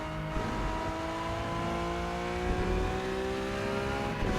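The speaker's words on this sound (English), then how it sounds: "The engine noise sounds like it's coming from right behind my head" A race car engine drones close by with rising and falling revs and tonal whine, from the driving game Rennsport, steady throughout.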